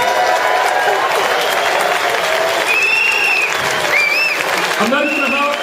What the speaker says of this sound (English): So please give yourselves a huge round of applause.